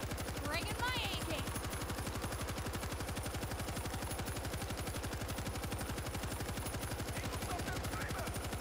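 Rapid automatic AK rifle fire in the video game World War Z, set in Rome, a fast steady stream of shots that runs almost unbroken through the whole stretch at moderate level, with faint game voices briefly above it.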